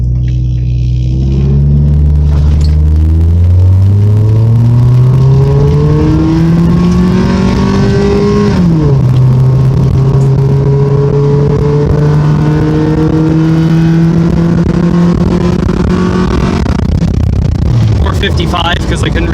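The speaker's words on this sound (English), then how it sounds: "We're gonna do a 0 to 60 pull." A slow, old Toyota Paseo revived after sitting accelerates hard from standstill on flat ground, the engine droning upward through the gears with a shift midway, loud and close from inside the car.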